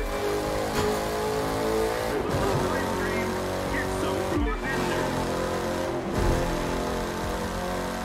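A Ford Mustang races through a street race in The Crew 2, its engine roaring continuously with gear-shift dips and brief tire squeals, under occasional talk.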